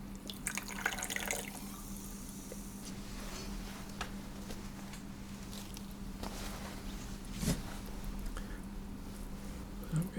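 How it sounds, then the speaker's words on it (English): Sparkling water poured into a cocktail at a home bar, a soft steady fizz and trickle with faint drips, close and quiet, with a few small clinks near the start and end. "Add some sparkling water."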